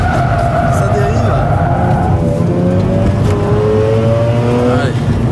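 A Mazda RX8 race car engine screams at high revs in third gear on a circuit, loud and continuous, its pitch sliding and dipping as the car drives through corners. A voice is heard over it.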